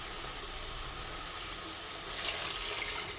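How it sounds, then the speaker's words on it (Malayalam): Water pours steadily into a pot for mint rice, a continuous broadband rush that swells slightly near the end, with no voices. "ഇനി വെള്ളം ഒഴിച്ച് കൊടുക്കാം."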